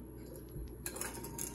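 A spoon stirs sugar into water in a bowl while a dipping sauce is made for Vietnamese mini pancakes, giving soft, close clinks against the bowl, brief and a little irregular.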